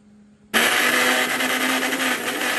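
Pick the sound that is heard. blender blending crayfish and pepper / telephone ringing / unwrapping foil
blender blending crayfish and pepper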